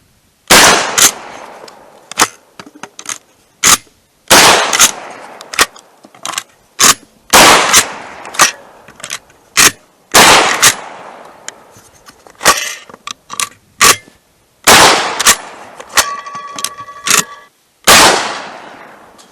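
Shotgun firing Federal Premium Black Cloud steel shells fed through a TactaLoad Flash-5: about a dozen loud, sharp outdoor blasts spaced irregularly, each with a short decaying tail, separated by near-silence and faint mechanical clicks.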